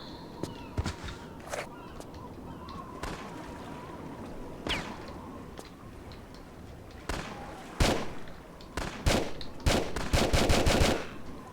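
Enemy gunfire in the Tomb Raider: Chronicles video game: scattered sharp shots build into rapid automatic bursts near the end, mixed with footsteps and game ambience.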